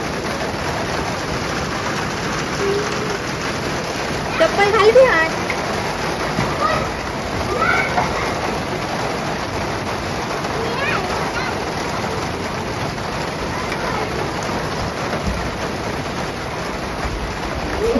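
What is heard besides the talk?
heavy rain with big drops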